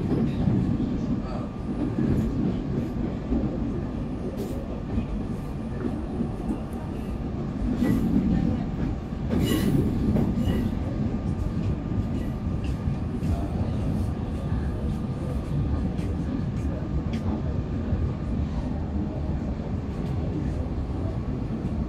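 The Cakrabuana passenger train to Cirebon, Indonesia, rumbling past on the rails, a loud continuous roar with clattering wheels and occasional screeches, sustained for the whole stretch.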